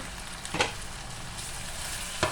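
Minced meat frying in a pan while cooking fried white bee hoon: a continuous close sizzle with two louder scraping stirs, one early and one at the end.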